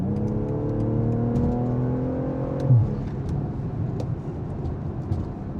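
A BMW M340i G20 with the B58 engine, fitted with a Vargas GC turbo, drives on the road. Its engine note climbs steadily through the gears, then settles into a steady rumble with road noise.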